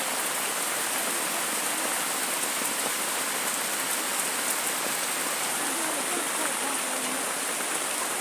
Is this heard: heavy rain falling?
yes